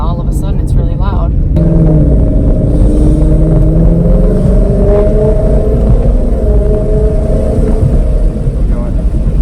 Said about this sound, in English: The muffler is really rotted out.